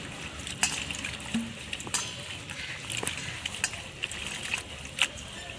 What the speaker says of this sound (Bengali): জল দিয়ে ভালো করে চটকে ধুয়ে নিচ্ছি